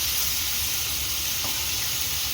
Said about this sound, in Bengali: সুন্দর করে বেগুন ভাজা, 3 রকমের ভাজা হবে